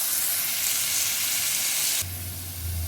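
Potatoes coated in turmeric and salt fry in a pan with a dense, even sizzle throughout, close and steady, shifting slightly in tone partway through with a low hum added, no talk.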